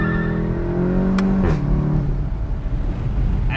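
A 2016 VW Golf GTI Clubsport pulls hard in sport mode, its free-flow exhaust rising in pitch before a shift, then settling into a steady, loud engine drone with no talk.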